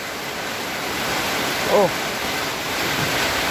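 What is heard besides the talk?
strong wind and heavy rain during a typhoon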